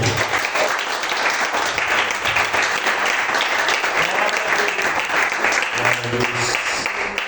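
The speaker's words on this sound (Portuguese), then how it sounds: "As palmas louvam o Senhor." Church congregation applauding during a worship service, a dense, steady wash of many hands clapping close and loud for several seconds, with faint low tones from a keyboard or organ underneath.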